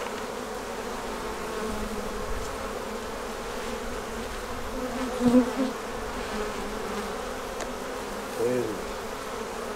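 Honey bees hum in a dense, steady drone around an opened hive box with capped brood, close and continuous, with a few louder buzzes passing near; a voice speaks briefly.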